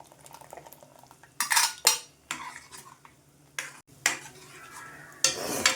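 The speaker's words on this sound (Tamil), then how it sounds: "இப்போ இந்த ஸ்டேஜில் நம்ம தயிர் கடைஞ்சி வச்சுருக்கோம் அதை நம்ம ஊற்றிக்கலாம்" Whisked curd goes into a simmering South Indian mor kuzhambu, heard as several separate bursts of close metal utensil clatter and stirring against a pot over a quiet background.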